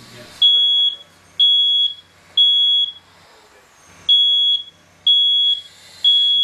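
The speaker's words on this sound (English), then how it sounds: "Your smoke detector is your first line of defense. When you hear it, you need to get out and stay out." Smoke detector alarm sounding a series of loud, shrill electronic beeps, six long tones in a steady repeating rhythm with short gaps between them, close by and alone.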